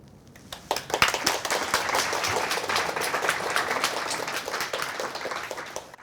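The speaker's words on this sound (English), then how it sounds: "Another round of applause for Daniel" Audience at a service design lab talk gives a round of applause for a presenter, dense steady clapping swelling in after a moment and fading near the end, moderately distant.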